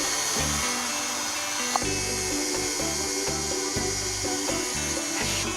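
An electric mixer with a clean whisk attachment beats egg whites and sugar, giving a steady, dense motor whir with a faint rhythmic chop from the whisk, loud and continuous with no talk.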